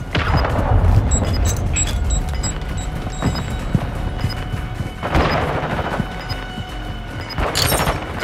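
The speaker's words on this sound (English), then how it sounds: "Friendly cruise missile inbound" Call of Duty: Modern Warfare 2 multiplayer, with a cruise missile strike giving heavy rolling booms around the one- and five-second marks amid scattered gunfire and battlefield crashes, loud and continuous.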